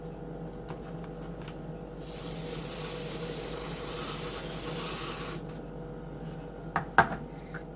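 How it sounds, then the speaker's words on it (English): A steady pressurized spray of whipped topping from a can hisses for about three seconds in a quiet room, followed by a couple of soft knocks. "this spray whipped topping"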